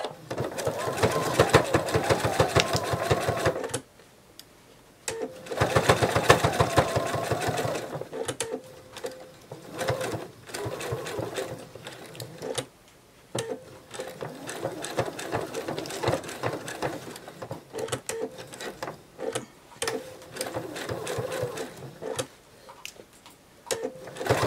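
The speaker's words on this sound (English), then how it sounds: "once that's pinned, you're just going to go ahead and sew it into place." A sewing machine stitches a minky penguin plush in close, rapid bursts of needle chatter. The runs pause repeatedly and restart, and a person talks softly between them.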